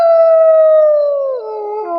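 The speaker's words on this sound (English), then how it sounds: "You can see some of the dogs behind me." A dog lets out a single loud, close howl, a long sustained tone that slowly sinks in pitch before wavering and breaking off.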